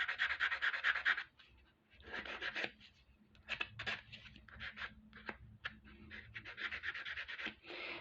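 Steel wool rubbed over a metal bracelet slider for polishing, giving faint, close scratchy strokes in short irregular bursts with brief pauses between them.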